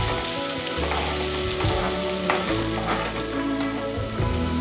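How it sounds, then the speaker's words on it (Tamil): Ingredients for cassava adai are lightly sautéed in a pan, a steady close sizzle and crackle of frying with occasional soft stirring scrapes, no voices. "ரொம்ப வதப்பாண்டாம், லேசாக வதக்கி போட்டால் நல்லாயிருக்கும்."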